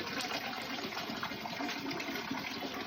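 Medicinal spring water in Meghalaya pouring steadily into a water bottle, a continuous close gushing splash with no talking.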